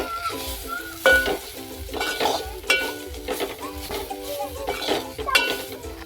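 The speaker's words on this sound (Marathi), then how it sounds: "जरासा गरम मसाला टाकूया अवेलेबल असल्यामुळे. जरा परतवून घेऊया." Ghol bhaji greens cooking with salt and garam masala in a pan, a soft continuous sizzle under repeated scraping and clinking of a spoon against the pan as the vegetables are stirred, close and fairly loud.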